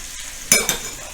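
Pork shank pieces being turned in garlic in an All-Clad pan give two quick, loud scraping sizzles over a quiet background hiss.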